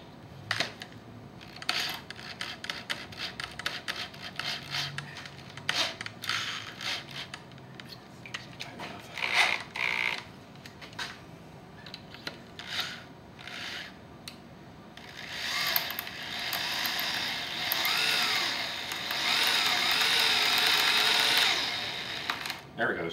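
A drill runs in reverse, briefly tightening and then backing out a broken exhaust manifold bolt through a drill guide. Short bursts give way to a loud, sustained whir near the end, with someone talking throughout.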